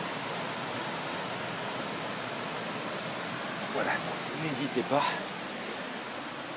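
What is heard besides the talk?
mountain stream flowing near the Chichit thermal baths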